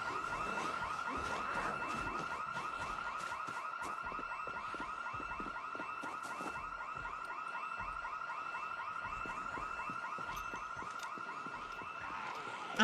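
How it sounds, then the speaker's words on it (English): A building alarm in the video game Project Zomboid rings continuously, a steady repeating electronic warble held at constant loudness throughout, with no voices. "that's definitely a building alarm"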